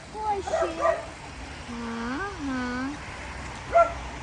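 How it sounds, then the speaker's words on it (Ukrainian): A French bulldog in an outdoor kennel whines and yips in a few short, rising and falling whimpers, fairly close and moderately loud over a background hiss, with talk nearby. "Дивіться, французький бульдог сидить в Буді."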